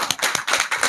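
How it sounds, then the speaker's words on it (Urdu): Audience applause at a high court bar association gathering in Pakistan, heard as a short, close burst of rapid, uneven hand claps lasting under a second. "بھرپور تالیوں میں شیر افضل مروت صاحب"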